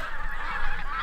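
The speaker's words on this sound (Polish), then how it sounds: "O, jakie fajne stado gęsi." A flock of geese honks outdoors along a spring woodland trail, several overlapping calls at a moderate distance forming a dense, continuous chorus.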